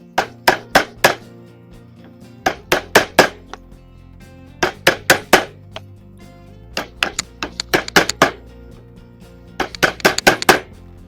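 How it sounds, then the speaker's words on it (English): Sharp metallic hammer strikes on a chisel land in quick clusters of three or four, pausing between groups, loud and close, during shed assembly. "I'm actually going to use a hammer just to get it nice and vertical"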